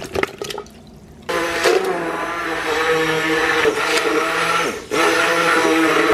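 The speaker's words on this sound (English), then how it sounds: "we will use the immersion blender" An immersion blender whirs through strawberries and lemonade for a popsicle mix, loud and close, starting after a brief clatter, running steadily, cutting out for a moment, then resuming.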